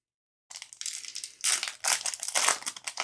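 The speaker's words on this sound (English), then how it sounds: "I can hear her climbing the Christmas tree right now." A cat climbs a Christmas tree, setting off bursts of crinkly, crackling rustling that come and go in uneven surges close by, with no voices.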